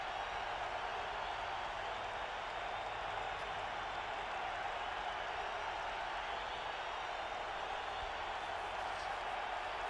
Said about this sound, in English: Jets crowd making all the noise they can